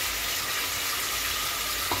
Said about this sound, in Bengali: এবারে আমি পেস্টটা দিয়ে দিলাম,